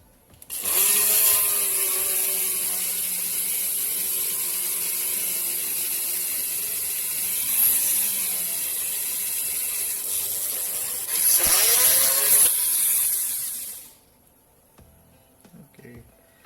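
A small power tool whirs steadily while widening a hole in a Hot Wheels VW toy car, running for about thirteen seconds with slight pitch dips and a louder stretch near the end, then stopping.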